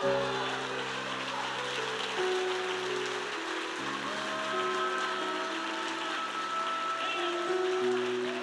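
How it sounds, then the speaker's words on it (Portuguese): Church congregation clapping in praise, a sustained dense patter of palms over held keyboard or organ chords, steady throughout. "Então dá uma salva de palmas ao Senhor"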